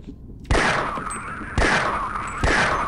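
Three loud gunshot bursts from the video game Half-Life, each a sharp crack followed by a rumbling decay, spaced about a second apart.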